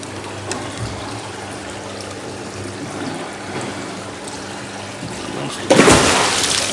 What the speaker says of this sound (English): Now in goes Mr. Eel